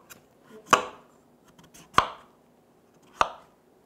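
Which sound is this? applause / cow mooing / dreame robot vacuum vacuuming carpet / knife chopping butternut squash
knife chopping butternut squash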